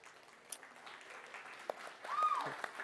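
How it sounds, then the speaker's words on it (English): Applause from a crowd in a large room at a church Sunday service closing a Vacation Bible School, a soft steady patter of clapping that swells slightly toward the end, with a faint whistle. "Let's just keep clapping."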